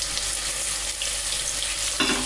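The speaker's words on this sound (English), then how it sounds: "I'm just turning each piece in the seasoned flour and putting them straight into the oil." Floured, seasoned artichoke pieces frying in hot oil: a dense, steady sizzle close by, with a brief louder crackle near the end as another piece drops in; no talking.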